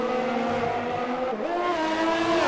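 Race cars in a racing video game scream past on a track, a loud sustained high-revving engine whine that dips in pitch midway as a car passes close, no voices.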